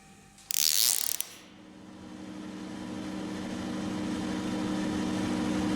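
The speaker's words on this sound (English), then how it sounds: "Here I am trying to make this workpiece a 12mm rod. I'm peeling 1mm at a time at this moment" A Weiler Matador lathe turns a rod down to 12mm, taking 1mm cuts. A brief harsh mechanical burst is followed by a steady, slowly rising machine hum with a tonal drone, close by with no talking.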